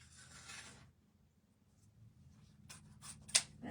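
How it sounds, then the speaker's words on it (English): Scissors snip while a football wreath is being made: after a soft rustle and a quiet stretch, several quick, crisp cuts follow close to the microphone. "These scissors, oh my gosh."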